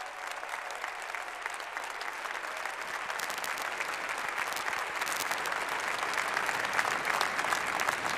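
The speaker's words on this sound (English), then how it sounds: "Now that deserves enormous applause." Enormous audience applause for a speech by Benjamin Netanyahu, a dense, sustained roar of clapping from a large crowd that holds steady and swells slightly toward the end, with no voices over it.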